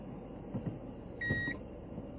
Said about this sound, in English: the car was beeping